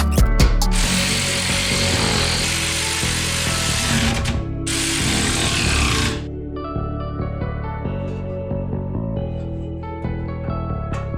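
Power tools and a ratchet tightening camber bolts on a Mk4 Volkswagen GTI: a loud whirring impact or drill burst for several seconds, then quicker clicking ratchet strokes, close up and uninterrupted by talk.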